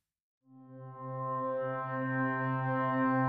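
Organic Omnisphere synth pad with the low-pass filter engaged swells in after a brief silence and then holds a steady, warm sustained chord, rich in harmonics but with a softened top, with no voices.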